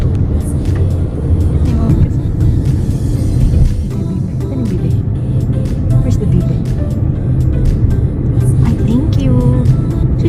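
A car engine runs to warm up in a Canadian winter, a steady low rumble that stays constant under close, continuous talking.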